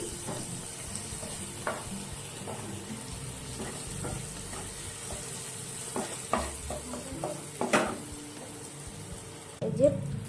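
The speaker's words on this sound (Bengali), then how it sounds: "কাটা আছে তো আনাজটা সেটা আগে একটু ভাজা ভাজা করে নিই তারপরে ফোড়ন দেবো" Chopped vegetables fry quietly in a pan before tempering, with a faint sizzle and scattered clicks and scrapes from a spatula stirring them, plus a brief louder clatter near the end.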